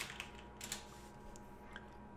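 Quiet keystrokes on a computer keyboard, a few separate taps and clicks spread over about two seconds with no talking.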